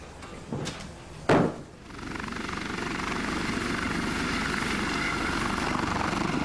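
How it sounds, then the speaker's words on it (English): An army helicopter flies overhead with a steady whirring rotor drone that settles in after a few sharp knocks at the start, continuing at moderate loudness. "In March, an army helicopter takes Valmir back to San Domingos, following an army convoy which has already travelled ahead"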